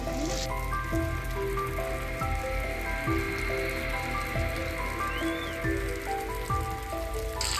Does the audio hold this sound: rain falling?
yes